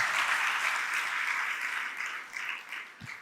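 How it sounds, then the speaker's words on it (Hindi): A large seated audience at a Jain religious sermon claps together, a dense, steady burst of applause that fills the room and thins slightly near the end. "जोर से ताली बजा दो अपनी हार पे,"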